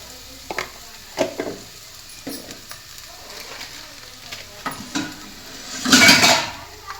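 Masala for egg salna being sautéed and stirred in a pan over a slow flame, with soft frying sizzle, scattered utensil scrapes and clinks, and a louder burst of stirring near the end.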